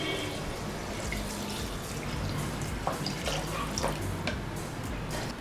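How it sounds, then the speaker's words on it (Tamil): Measured water is poured into a pot of Dindigul biryani, giving a steady, close rushing and splashing that runs unbroken for several seconds with a few faint drips on top. "மெஷர் பண்ணி வச்சுருக்கிற தண்ணியை உள்ளே ஊற்றிடலாம்."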